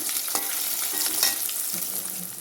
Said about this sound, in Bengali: আর ওগুলো ভেজে নিচ্ছি।